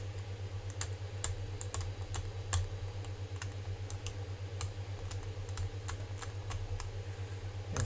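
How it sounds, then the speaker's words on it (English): A knife scrapes corrosion muck off the circuit board of a retro Sega handheld, giving a run of sharp, close clicks and scratches at an irregular rhythm over a steady low hum. "scrape all that muck off"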